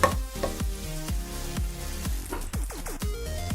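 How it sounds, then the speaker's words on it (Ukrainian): Butter sizzles and crackles in a hot frying pan over low heat, with several sharp taps and clinks of a utensil against the pan. "Сковорідку ставимо на невеликий вогонь. Чекаємо, щоб вона добре розігрілася. Кидаємо шматочок масла."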